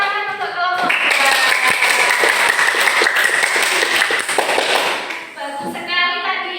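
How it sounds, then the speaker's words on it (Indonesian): A school class applauds a student group after a classroom presentation: loud, steady clapping from many hands fills the room for several seconds, with voices heard briefly at the start and end. "Kasih tepuk tangan untuk kelompok 2."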